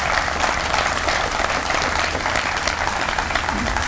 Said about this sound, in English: give a moment of applause for those folks who were here at the